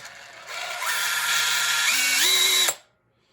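A Bosch hammer drill in rotary-only drilling mode, without hammering, whirs steadily for a couple of seconds, its pitch stepping upward as it speeds up, then cuts off abruptly into silence.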